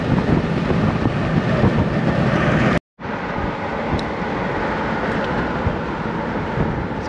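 A Jeep with a sun shade top drives at highway speed, carrying a loud, steady rush of wind and road roar that cuts out briefly and then resumes.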